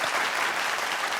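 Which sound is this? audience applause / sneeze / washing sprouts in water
audience applause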